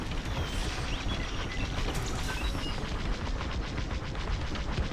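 Starfighter laser cannons in the X-Wing space combat video game fire in a dense, continuous barrage of rapid bursts, loud and steady over engine rumble, with no talking.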